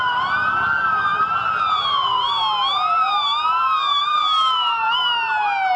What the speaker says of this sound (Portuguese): Você está vendo aí os carros do Corpo de Bombeiros, eles estão se dirigindo às Torres Gêmeas